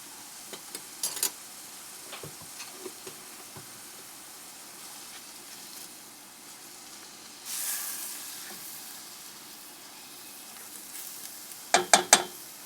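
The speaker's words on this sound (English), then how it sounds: "Be sure to stir constantly so that your onions and garlic do not burn." Onions and minced garlic sizzle quietly in a pan, with scattered spoon clicks against the pan and a louder burst of frying partway through, close and with no voices.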